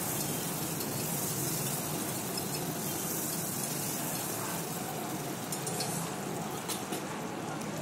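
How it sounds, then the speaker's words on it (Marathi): Tomatoes and other ingredients for khichdi fry in a pan with a dense, continuous sizzle that stays loud and even throughout, with no clear stirring strokes. "असंच तळू द्या"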